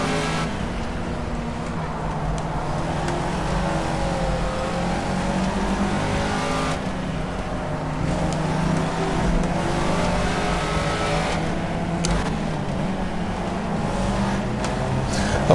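Caterham Seven race car engine in Project CARS on the Monaco street circuit, droning steadily and close throughout with rising and falling revs and gear changes, no voices.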